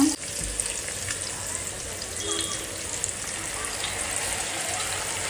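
Two large pomfret fish fry together in a crowded pan with a little garlic, giving a steady, close crackling sizzle that runs unbroken through the whole stretch.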